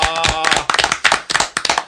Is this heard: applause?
yes